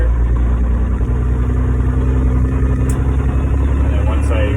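13-speed truck pulling onto a highway, its engine droning low and loud as it accelerates steadily, with cab road noise throughout and brief faint clicks near the end.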